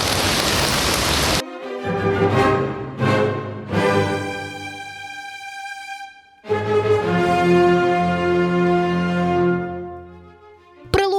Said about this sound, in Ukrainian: Водна злива перетворила місто на суцільний аквапарк.